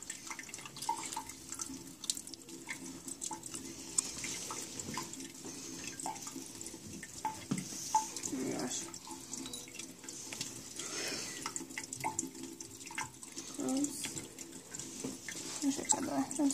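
Tap water runs steadily for rinsing during a home science experiment, a faint continuous splash with scattered drips and clatter, with quiet talk now and then.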